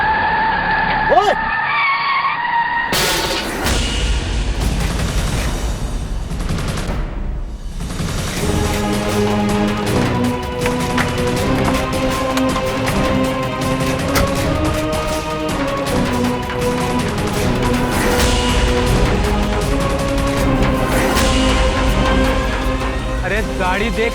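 A car brakes suddenly, its tires skidding loudly on the road before it collides with another car, followed by a long noisy stretch with voices talking and shouting over the commotion.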